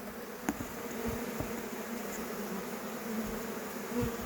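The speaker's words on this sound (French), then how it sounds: "Et enlever les abeilles qui me chatouillent le visage" A honeybee swarm buzzes steadily close to the microphone during removal of a swarm, a dense continuous hum with occasional bees passing near and brief knocks.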